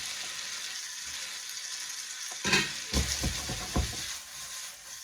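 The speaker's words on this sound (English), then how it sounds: "So now our pancetta is in the pan, nice and crispy. We add our spaghetti." Spaghetti hitting a pan of crispy pancetta fat, a steady background sizzle broken by a burst of louder crackling and a few stirring clunks midway, then easing back to a soft fry.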